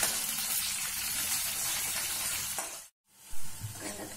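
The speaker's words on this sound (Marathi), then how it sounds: "जिरं चांगले फुलले की आपल्याला त्यात कांदा टाकायचा." Onion frying in oil with cumin seeds, a close, steady sizzle with stirring scrapes, broken by a brief dropout near the end before the frying resumes.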